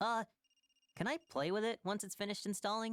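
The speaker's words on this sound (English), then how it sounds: "That's the phone. Maybe Dad's calling." A telephone rings in the video game Another Code as a faint, rapid electronic trill, heard briefly in a pause and continuing softly beneath a voice that talks over most of the moment.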